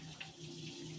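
Water running from a tap, a steady faint hiss with a low hum beneath it, continuous and unbroken for about a second with no voices.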